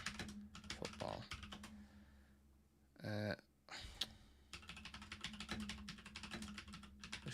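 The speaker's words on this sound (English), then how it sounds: "This keyboard's so loud." Loud computer keyboard typing, close by, in quick irregular bursts of sharp clacks with a brief pause and a louder thump midway, then rapid keystrokes again, with no talking.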